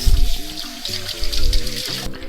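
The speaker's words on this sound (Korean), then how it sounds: "그래서 그냥 찬물에 살짝만 린스 할게요." Sliced onions rinsed under cold running tap water, a loud, close, continuous splashing gush with bubbling trickles that changes tone as the onions move beneath the stream.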